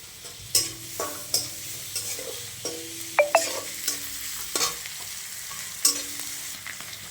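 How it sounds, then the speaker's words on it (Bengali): Chopped ginger, garlic, chili and onion frying in a pan, with scattered stirring scrapes and sharp clinks over a soft, steady sizzle, close up and with no talk. "আদা কুচি দিয়ে দিলাম। হালকা ভেজে নেব।"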